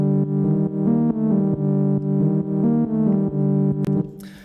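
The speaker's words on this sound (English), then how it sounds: "That sound was recorded using my Korg Minilog" Korg Minilogue synth line with light reverb, a sustained bright chordal tone with rhythmic re-triggered notes in a steady pattern, ending in a brief noisy burst, with no voices.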